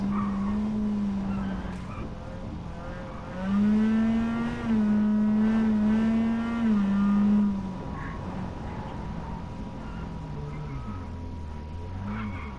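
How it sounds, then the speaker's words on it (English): Rally car in the WRC 10 racing game on a tarmac stage, its engine droning and rising in pitch as it accelerates hard through fast sections, loud and continuous with gear changes and a falling note at the end. "It's too difficult to drive the car in these fast sections."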